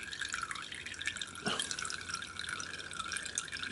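Water drains from a model steam engine boiler back into a tank, a steady trickling and dripping with one brief louder splash near the middle, fairly close and alone.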